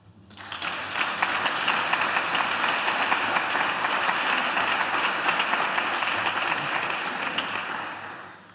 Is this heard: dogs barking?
no